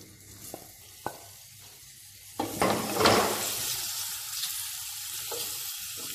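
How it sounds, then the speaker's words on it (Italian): Vegetables for a soffritto hit hot extra virgin olive oil in a pan: a few light clicks of utensils, then a sudden loud sizzle that settles into a steady frying hiss with occasional stirring. "L'olio è caldo, iniziamo il soffritto."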